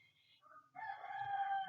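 A rooster crows, first with short clucking notes, then a loud, sustained cock-a-doodle-doo rising in strength and held to the end, heard alone and fairly close.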